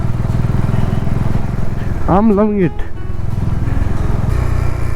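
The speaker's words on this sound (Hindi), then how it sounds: "मस्त इसकी इंजन ब्रेकिंग है भाई।" A car engine-braking downhill in low gear on a mountain road in Himachal between Manikaran Sahib and Shimla. A steady droning engine hum runs throughout, and a brief spoken phrase rises over it midway.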